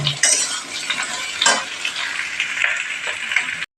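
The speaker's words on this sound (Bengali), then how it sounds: "আলুগুলোকে একটু ভেজে নেব তাহলে পেঁয়াজগুলো তাহলে আর একটু লাল লাল একটু ভাজা হবে" Potatoes and onions frying in a pan for a Bengali borboti chorchori dish, a steady close sizzle with stirring scrapes and a few utensil clinks, no voices, ending in a brief silence.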